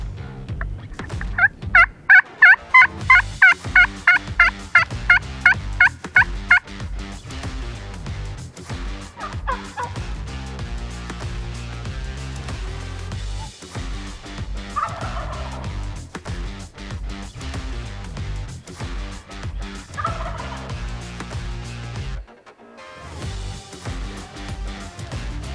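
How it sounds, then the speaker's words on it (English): Wild turkeys in Oregon gobble during a bowhunt, with a rapid, loud burst of repeated gobbles at the start, followed by quieter, intermittent calls over a steady outdoor background. "let's see if we can get a bird to gobble"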